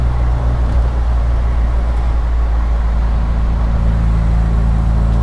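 MGB Roadster with a roughly 120-horsepower engine, rebuilt 20,000 miles ago, heard from the open car as a loud, steady low engine drone with continuous road rumble while it accelerates.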